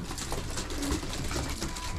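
Racing pigeons at a breeder's loft coo softly and steadily for about two seconds, their low murmuring blended with a rustle of ambient noise and no talking.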